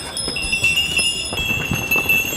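Donkey hooves tap out an uneven, steady clatter on the stone steps climbing up from Santorini's old port. Small bells ring beside them, and a high, steady tone hangs over the scene.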